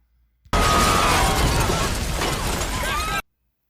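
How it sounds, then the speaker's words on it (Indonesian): A sudden, loud, roaring bomb blast in a film, with crackling debris that sustains for nearly three seconds, then cuts off abruptly into silence. "tak lama kemudian bom itu pun meledak."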